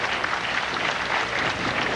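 Applause from a crowd at a 1993 women's professional bowling tournament, a steady, dense wash of clapping that carries on evenly throughout with no break.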